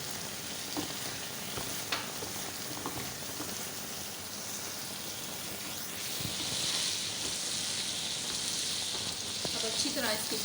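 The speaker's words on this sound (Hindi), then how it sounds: "अब अच्छी तरह इसकी भुनाई करनी है, आपको मसाला जो है अच्छी तरह भून जाए।" Spicy tawa boti meat and masala frying on a hot tawa over a full flame, giving a steady, close sizzle with light stirring scrapes throughout and a slightly louder crackle toward the end.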